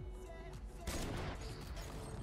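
Blasts from a double-barrel shotgun in an older PlayStation shooter game ring out in quick succession, dense and rumbling over a continuous background din, fairly low in level.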